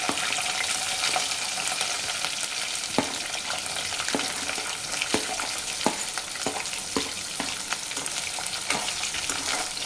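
Onions and green chillies fry steadily in a pan for a bottle gourd curry, a continuous sizzle with occasional sharp clicks of a spoon stirring, with no one talking.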